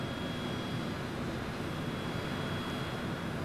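A steady, droning airplane engine hums in Microsoft Flight Simulator as the aircraft approaches landing near Athens, a constant broadband roar at moderate level with no voices.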